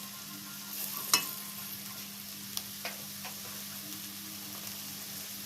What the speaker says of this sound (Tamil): அடுத்து வந்து எடுத்து வச்சிருக்க மசாலா எல்லாம் போட்டு வதக்கலாம்.